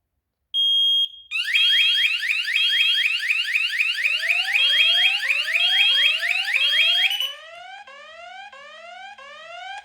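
Loud, continuous electronic alarm from a wireless water leak detector on an Opax ARD-632 alarm panel, rapid rising chirps repeating without pause, shifting to a lower pulsing tone near the end.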